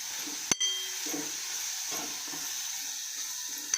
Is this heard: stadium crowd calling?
no